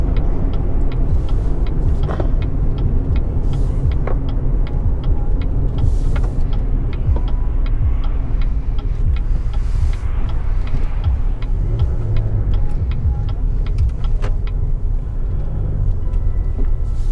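A 2017 GMC Canyon Denali pickup with a Duramax diesel engine driving on a canyon road in Utah, giving a steady, loud low rumble of engine and road noise throughout with no talking.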